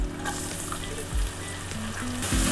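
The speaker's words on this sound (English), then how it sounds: "And now fry the onion till we get rid of the raw flavor as well as till it gets slight brown" Finely chopped onion sizzles in hot oil in a pan alongside garlic, ginger and green chilies, a steady close crackle with light stirring and music playing underneath.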